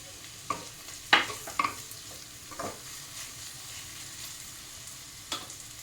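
Capsicum stir-fried in a hot pan for Bengali-style fried rice, a soft continuous sizzle broken by a few quick scrapes and clacks of the stirring utensil.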